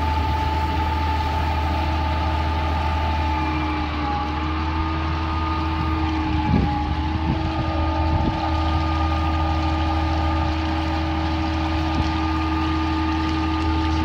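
A pump lifts drilling mud from a newly drilled water well during flushing, producing a loud, constant engine and pump drone with a steady hum and a couple of brief knocks.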